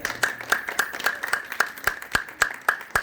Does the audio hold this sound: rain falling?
no